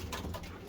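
Racing pigeons cooing in a loft, soft low throaty coos repeating steadily through a short moment, fairly close with faint room ambience and no talk.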